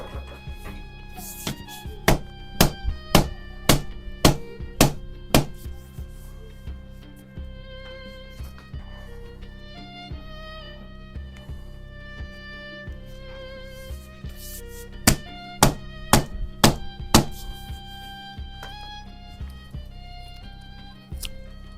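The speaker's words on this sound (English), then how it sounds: "We've hammered that as far as we can in" Sharp hammer blows drive a pipe into a PVC bow being built with cheap tape, striking in two bursts of rapid, loud knocks, the first of about six hits and a later cluster of about five, with a steady hum underneath.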